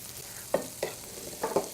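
Lamb meatballs fry in a pan with a soft, steady sizzle, broken by a few short bursts as they are moved and stirred.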